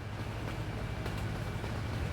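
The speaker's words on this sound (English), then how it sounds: "I can hear a train." A train rumbles low and steady at a distance, faint and continuous with no voices, in the video game American Truck Simulator on its Iowa map.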